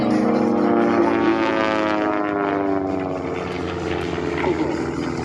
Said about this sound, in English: These aircraft have 180 horsepower motors in them